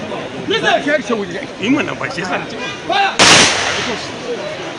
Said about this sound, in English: security operatives fired 21-gun salutes at the entrance of his private residence